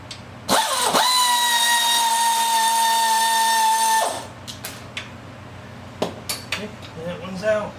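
A power drill or impact driver whines loudly and steadily for about three seconds while removing bolts from an old Yazoo mower engine, then quiet clanks of parts and handling follow.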